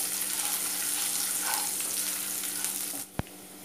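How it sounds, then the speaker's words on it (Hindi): Ginger and garlic sautéing in a pan, a loud continuous close sizzle with faint stirring, ending in a quieter moment and a single sharp metallic clink. "अब इसमें हम 1 बड़ा चम्मच लहसुन डाल देंगे। दोनों को सौटे कर लेंगे।"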